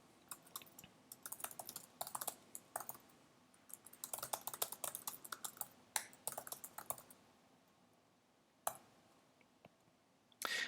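Typing on a computer keyboard, quick bursts of close, crisp key clicks in uneven runs separated by short pauses, with a few sharper isolated taps near the end.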